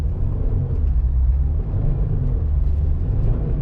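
A car engine revs in a steady, restrained drone held short of the red line, a continuous low rumble with mild swells in pitch and no voices over it.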